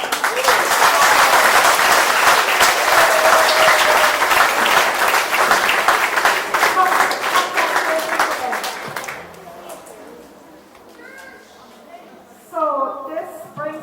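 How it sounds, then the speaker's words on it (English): Audience applause at a graduating ceremony for a women's empowerment program in Guyana, loud and sustained for about nine seconds, then thinning out into a few faint voices before a brief final burst of clapping. "So I think we should all give the graduates a loud round of applause."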